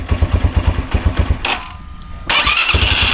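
A motorcycle engine cranks in rapid rhythmic chugs, goes quiet for a moment, then fires and settles into a steady running roar, close by with no voices.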